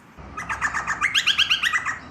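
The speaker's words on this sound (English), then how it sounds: "These are social calls, used to warn others of predators or used when foraging to remain a close group." Noisy miner honeyeaters give a run of chattering social calls while foraging, about a dozen quick, bright, close notes in a steady rhythm with no talk over them.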